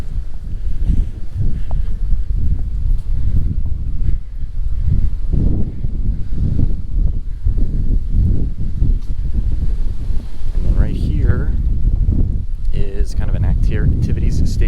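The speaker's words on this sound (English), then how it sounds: "it's getting pretty windy here now, so I hope you're still able to hear me" Strong wind gusting across a beach at a resort on the Riviera Maya, Mexico, buffeting the microphone with a constant low roar, with voices exchanging greetings briefly near the end.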